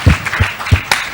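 Several claps in a church congregation, loud and near, forming a short, uneven burst of applause.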